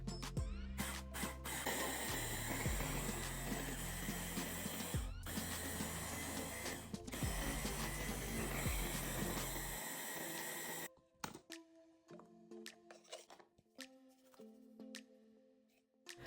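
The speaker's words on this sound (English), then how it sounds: "Then grind it to an even powder." An electric grinder whirs steadily as it grinds dried, hardened bath salt base into an even powder, a loud continuous buzz broken by brief pauses before it stops, leaving scattered small clinks and handling noises.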